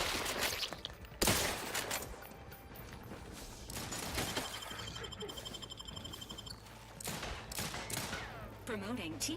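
Bursts of hip-fired gunfire from The Outer Worlds 2, loud shots and rapid volleys breaking out between stretches of game noise, with a voice talking over parts of the action.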